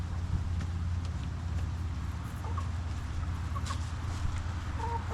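Backyard chickens clucking softly while scratching through compost material, scattered murmuring clucks over a low steady outdoor rumble.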